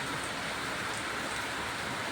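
Steady, dense rain pouring down, a continuous hiss of water hitting surfaces with no pauses and no voices.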